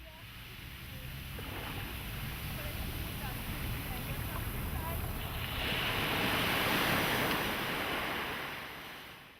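Surf rolling onto a sandy beach at Praia da Vitória on Terceira in the Azores, a steady broad wash with wind noise that swells louder toward the end, no clear voices.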